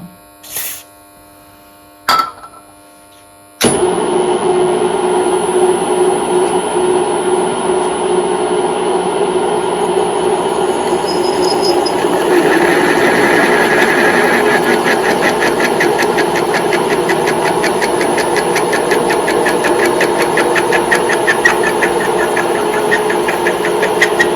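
A milling machine starts up and runs continuously, a loud steady whirring drone with a gritty grinding edge as a 12.5mm drill bit cuts. No talking.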